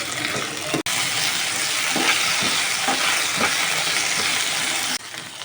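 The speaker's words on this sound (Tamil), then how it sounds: "கோவக்காவை உள்ளே ஆட் பண்ணி லைட்டாக வதக்கிக்கோங்க" Ivy gourd (kovakkai) sautés in oil in a pan, a continuous hiss of sizzling broken by the scrape of stirring, steady and close throughout.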